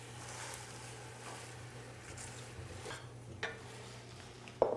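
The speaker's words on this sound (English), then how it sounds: "we're going to start putting that spinach in and just stirring it around" Spinach is stirred with vinaigrette in a pan, producing quiet scraping and soft shuffling stirs with a faint sizzle, a low steady hum underneath and a sharper utensil clink near the end.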